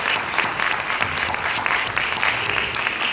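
A conference audience at a world congress on childhood and adolescence in Tetuán, Morocco, claps loudly and continuously, a dense, even roar of hands with no pauses.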